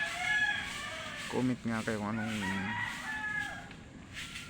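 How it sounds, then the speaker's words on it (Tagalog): A chicken lets out a drawn-out, wavering call in the middle, partly under a person talking nearby. "alam nyo yun, manok yun."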